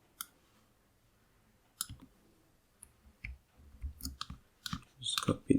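Computer keyboard keys clicking at a desk, sparse at first and then faster in short irregular bursts of close, crisp taps, with no talking.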